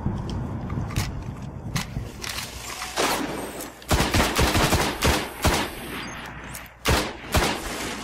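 Automatic weapons and shotgun blasts from the game Destiny on PS4 fire from several directions in sharp, rapid bursts, some loud and near and others further off, with short gaps between volleys.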